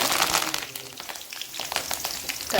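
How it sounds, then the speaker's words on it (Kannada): Oil sizzles and crackles loudly in a pan while cooking Karnataka-style gojju avalakki, a close, continuous frying hiss with sharp popping bursts and no talking. "ಇದು ಫ್ರೈ ಆಗಬೇಕು ಚೆನ್ನಾಗೆ"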